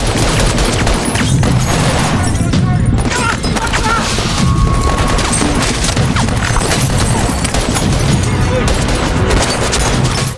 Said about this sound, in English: Soon, both sides engaged in a firefight